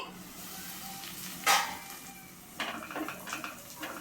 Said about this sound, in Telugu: ఉల్లిపాయ పచ్చిమిరపకాయ బాగా వేగాలండి